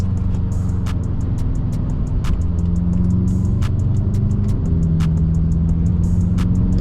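BMW M6 engine heard from inside the cabin on a rainy night, a loud, steady low drone with shifting engine tones, punctuated by regular clicks from the wipers.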